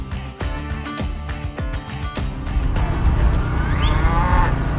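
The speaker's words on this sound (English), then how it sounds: "But first, Jolie Vermette shares her passion for working cattle with stock dogs." Cattle moo loudly and repeatedly at a livestock days event where stock dogs work the herd, several long bellowing calls close by, with a steady rumble of background noise and no talking.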